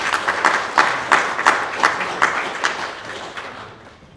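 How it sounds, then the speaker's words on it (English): Applause from a meeting audience after a talk, a loose ripple of claps with sharp individual hits standing out, fairly near and fading toward the end. "Let's give an applause to Martijn."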